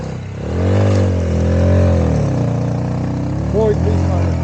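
A Chinese dirt bike engine revs up and settles, a close, loud mid-pitched whine that rises and falls in pitch with throttle changes over a few seconds.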